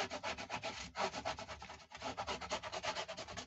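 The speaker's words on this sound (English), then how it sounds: "give that good burnishing" Thick 280 card is burnished with steady, rapid back-and-forth rubbing strokes, close and fairly quiet, with one brief pause near the midpoint.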